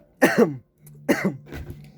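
Two or three harsh coughs close to the mic, separated by short pauses, with a throaty rasp.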